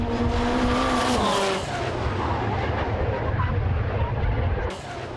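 A Toyota MR2 drag racing car at a Voronezh drag strip roars loudly and continuously just past the finish as it loses control, with the harsh, dense engine and tyre noise filling the whole moment close up.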